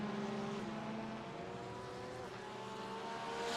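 A lone Porsche GT race car in a racing game hums past with a steady, moderately faint engine tone that shifts pitch gently, a distant broadcast-style drone with no voices.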